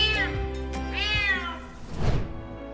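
A distressed cat meows repeatedly and clearly during a rescue, with rising, drawn-out cries close by, no talking over them.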